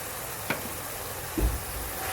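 Fried hilsa fish heads sizzle in a pan with taro leaves, giving a steady soft hiss broken by a couple of brief clinks of stirring.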